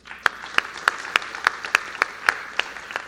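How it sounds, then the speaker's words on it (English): A conference session audience applauds a panel steadily, sharp claps standing out at a regular rhythm, moderately loud and continuous, with no talking. "another round of applause for the panel"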